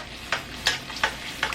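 Fish fries in oil in a pan while hot oil is spooned over it for basting, a continuous close sizzle broken by four evenly spaced spoon scrapes and splashes.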